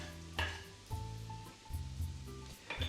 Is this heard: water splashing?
no